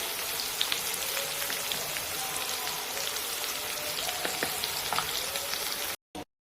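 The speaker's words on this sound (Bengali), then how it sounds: "ওল ভালো করে ভাজা হয়ে গেলে তেল থেকে ছেঁকে নিতে হবে।" Pieces of elephant foot yam, salted and dusted with turmeric, fry in hot oil with a steady, dense sizzle that stays loud and even throughout before cutting off abruptly near the end.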